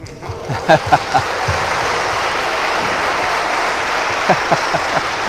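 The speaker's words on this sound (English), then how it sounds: "You want to clap again?" Wedding guests in a church break into a short burst of clapping, with a few sharper claps rising above a steady wash of room noise, then a second brief flurry later on.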